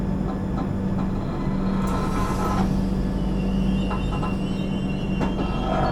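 Howrah–Bangalore Duronto Express train running, heard from near an open carriage door, with a loud steady rumble of wheels on rails, rhythmic clatter and a constant low drone, close and unbroken throughout.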